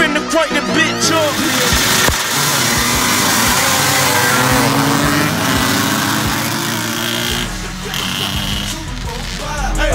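A 50cc motocross dirt bike engine starts and revs up close, its loud buzzing drone holding steady for most of the clip and then dropping back, with voices talking nearby.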